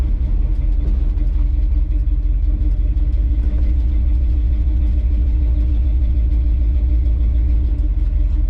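A 1983 Chevy C10 truck with a small-block 350 V8 runs at a loud, steady idle, its deep rumbling low end continuous and close, with no one talking.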